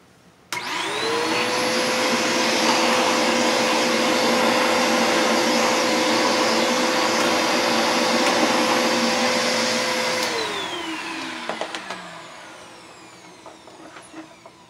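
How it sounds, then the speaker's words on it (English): A vacuum cleaner starts abruptly and runs with a steady loud whine for about ten seconds while sucking up metal burrs, then winds down, leaving faint rattles and scraping. "I'll use a vacuum cleaner to"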